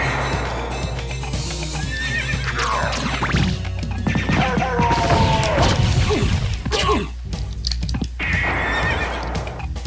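Horse-riding halberd enemies in the video game Castlevania: Symphony of the Night, loud repeated neighing and whinnying mixed with clip-clopping hooves and sharp game hits and crashes.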